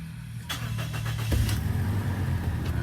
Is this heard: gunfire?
no